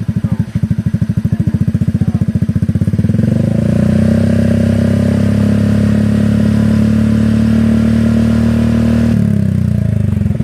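Motorcycle fitted with an aftermarket muffler revs hard: rapid throttle blips at first, then a loud sustained high-rev drone held for several seconds before dropping back, close to the microphone with no talk.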